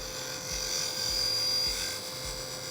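A wood-turning tool cuts on a lathe, giving a steady close whirring scrape with a faint repeating pulse roughly every half second, running continuously with no talk.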